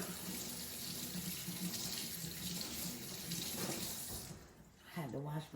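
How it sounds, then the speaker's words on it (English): Water runs steadily from a kitchen tap into a sink during handwashing, a loud, close, continuous splashing rush that cuts off near the end. A voice speaks briefly just afterward. "I had to wash my hands because"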